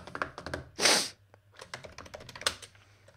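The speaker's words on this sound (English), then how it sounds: "You're also going to be subjected to my typing skills" Rapid, uneven keystrokes clatter on a computer keyboard, close and alone, with one louder burst of clicking partway through.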